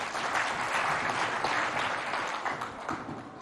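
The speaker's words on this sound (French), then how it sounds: "On applaudit les enfants," Steady applause from a crowd for children at a school event, dense clapping that holds at an even level throughout.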